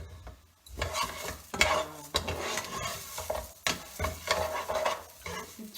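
Rice and onion toasting in a saucepan for mushroom risotto, stirred with scraping strokes over a soft sizzle, the stirring coming in repeated bursts with brief pauses between them.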